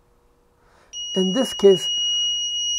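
An Arduino alarm buzzer in a light-sensor circuit gives a steady, high-pitched electronic tone that starts abruptly and holds continuously while a voice speaks briefly over it.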